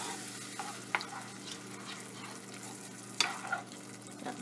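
Mutton curry masala with a little added water is stirred in a pan, giving a soft continuous sizzle with occasional sharper scrapes and clinks of the spoon against the pan, fairly quiet and close.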